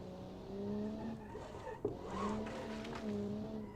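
A car in the BeamNG driving game does burnouts, its engine droning steadily while tires squeal in wavering bursts, with one brief thump midway.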